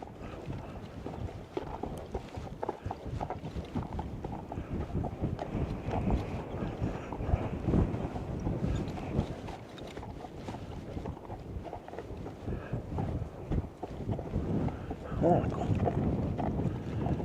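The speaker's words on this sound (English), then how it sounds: "the wind blowing" Steady wind gusts across a remote desert trail below mountain peaks, a rough, close blustery rush with faint clopping of a ridden horse mixed in, no talking over it.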